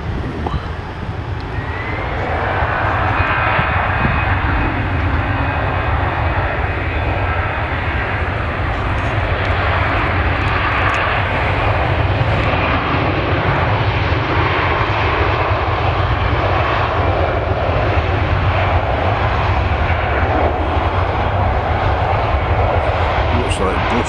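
A jet airliner takes off at Manchester Airport, a broad, steady engine roar that swells within the first few seconds and holds loud and continuous for the whole stretch, with voices talking over it.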